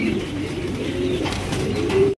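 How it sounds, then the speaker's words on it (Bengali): A pair of Pakistani Nepta pigeons cooing close by, low throaty rolling coos repeating steadily over soft background noise, with a faint flutter of wings. "বন্ধুরা এখানে রয়েছে চমৎকার একজোড়া পাকিস্তানি একজোড়া কবুতর"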